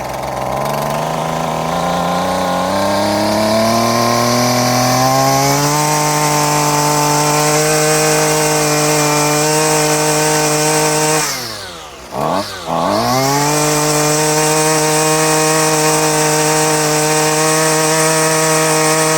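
Husqvarna 128LD string trimmer two-stroke engine running at half choke, a loud close buzzing drone that rises in pitch, dips sharply and briefly near the end, then recovers.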